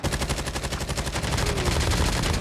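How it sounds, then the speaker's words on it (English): Rapid gunfire in a first-person shooter game, a dense burst of loud repeated shots running continuously with no speech. "Oh, I heard the shots."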